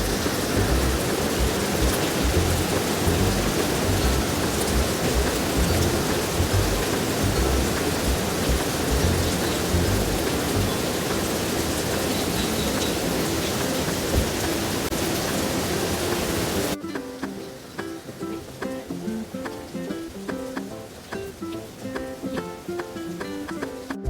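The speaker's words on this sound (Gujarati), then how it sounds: "બપોરના 12 અને વરસાદ ફૂલ એમનો એમ ચાલુ જ છે" Heavy monsoon rain pours steadily in Ahmedabad as a dense, loud roar of falling water, continuous throughout and easing somewhat in the final stretch.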